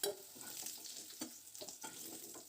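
Potato pieces frying with salt and turmeric while being stirred, a soft sizzle under repeated scraping strokes of a spoon against the pan, faint and close.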